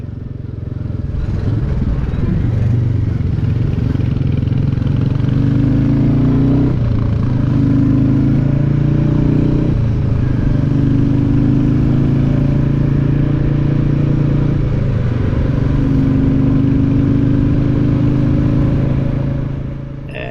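Royal Enfield Classic 350 motorcycle being ridden, its single-cylinder engine droning loudly and steadily with low thumping and slight shifts in pitch, plus wind rush, sustained throughout with no speech.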